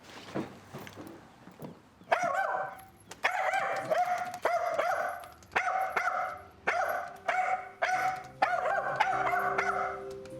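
A dog barks repeatedly in bursts of sharp, fairly loud barks with short pauses between them, some yelps mixed in, and no talking.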